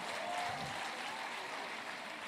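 An audience of women at a Niger Delta gathering applauds High Chief Dr. Dennis Brutu Otuaro with a continuous, even wash of clapping that stays faint and distant throughout.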